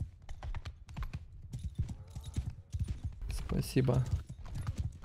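Galloping horse hooves in the Mount and Blade 2 Bannerlord multiplayer game, a quick clip-clop rhythm running under steady talk along with other game noises.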